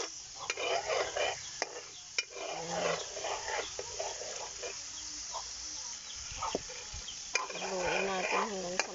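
Latik, coconut cream, is stirred in a pan as it cooks, giving a soft ongoing scrape and faint sizzle, broken by occasional sharp clinks of the utensil against the pan.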